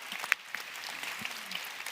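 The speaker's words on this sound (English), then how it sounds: "I want to give a big round of applause to our panelists for this conversation" Forum audience clapping for panelists after a democracy discussion, brief and fairly light, a scattering of hand claps at moderate distance.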